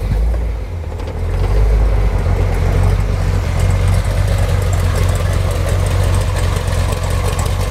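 A 1967 Corvette with an LS-6 crate engine and Flow Pro mufflers fires up and settles into a steady, fairly quiet idle, a low rumbling drone heard close with no talking.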